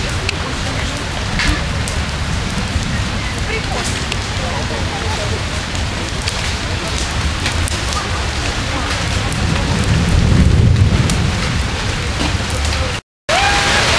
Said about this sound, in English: Starting to be a little more rain than hail, so that's good.